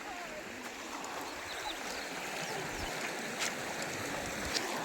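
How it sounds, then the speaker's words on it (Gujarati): Water rushes strongly through a channel in a steady, dense roar that stays even throughout, close and unbroken, with no talking heard. "એ જો કેવું મસ્ત પાણી જાય"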